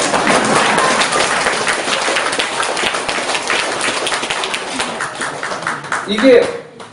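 Lecture audience claps in a steady, dense burst that fills the room, gradually thinning out toward the end as a voice returns.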